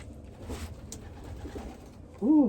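Pigeons in a loft give a soft, close coo that rises clearly at the end, over faint rustling and low background murmur, with no speech.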